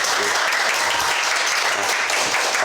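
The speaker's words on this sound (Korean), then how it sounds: "여러분들 윤문진 사장하고 또 RF를 또 배출하신 전달의 승급자 우리 박나혜 사장님을 위해서 큰 박수 한번 다시 한번 보내드릴까요?" Dense, steady applause from an audience at a company meeting honoring promoted members, continuous and close, filling the whole stretch without talk.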